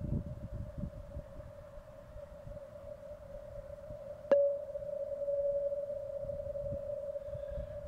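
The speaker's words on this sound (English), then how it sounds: "this last one takes a few seconds, I think, but it's a nice long echo" Audible NMR signal with a long gradient echo: a steady pure tone sustained throughout, with a brief sharp click partway through after which the tone swells slightly, over low rumbling background noise.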